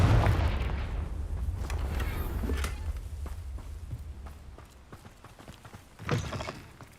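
Confringo fire blast spell in Hogwarts Legacy: a booming impact fading into clattering mechanical noises and footsteps, with a second sharp blast near the end.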